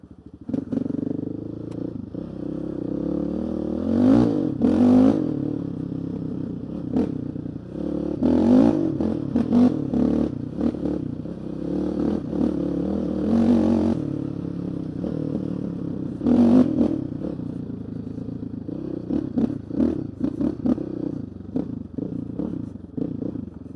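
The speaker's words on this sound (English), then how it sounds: "I just love the single cylinder big bore engines" A Honda TRX700XX ATV with a big-bore single-cylinder engine riding along, its low thumping exhaust lugging and revving in repeated surges amid rattling clatter, loud and close throughout.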